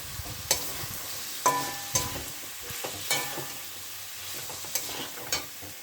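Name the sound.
cumin paste being fried and stirred in a pan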